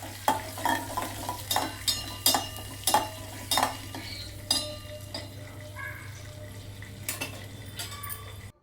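Onion chutney sizzles steadily in a pan while a spoon scrapes and taps repeatedly in an uneven rhythm, close and fairly loud.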